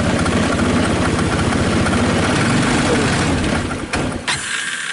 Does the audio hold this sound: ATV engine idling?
yes